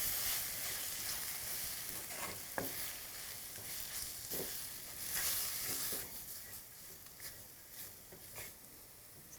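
Turmeric masala sizzles and fries steadily in a pan over a medium-low flame for Kerala steelhead fish curry, with occasional stirring scrapes and clicks and a continuous hiss, close and moderately loud.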